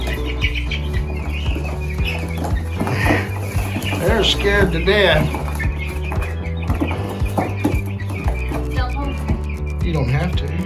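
Chickens clucking and chirping inside a chicken house, a steady busy flock sound close by, with people talking over it throughout.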